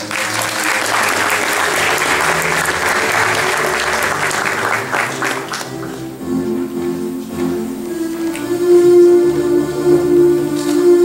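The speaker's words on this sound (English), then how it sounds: "Please give them all a round of applause." Sustained applause from an awards ceremony audience, a dense, loud clatter of clapping that fills the first half, then thins and fades under a steady musical tone and soft background murmur.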